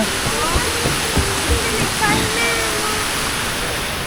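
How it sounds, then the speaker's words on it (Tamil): An artificial waterfall on a Bangkok building rooftop pours steadily, giving a loud, continuous rushing splash that fills the whole stretch, with no voices standing out. "இங்கே வந்து ஒரு அருவி செஞ்சு வச்சுருக்காங்க"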